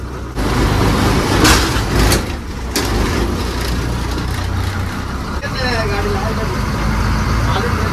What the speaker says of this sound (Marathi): चालली गाडी आपली बरोबर 7:30 वाजता।